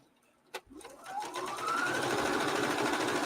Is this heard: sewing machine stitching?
yes